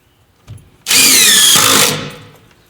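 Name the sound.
screw gun driving screws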